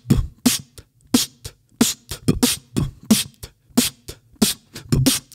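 A beatboxed drum beat imitates a drum kit with a steady, quick rhythm: low kick-like thumps alternate with sharp, hissy snare-like hits, clear and close with no other sounds.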